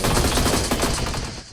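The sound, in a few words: gunfire in the video game Energy Assault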